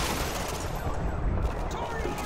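Dense gunfire and explosions in Call of Duty Modern Warfare 2 roar steadily through the clip, a continuous battle din with overlapping shots and booms, while radio-style speech runs underneath.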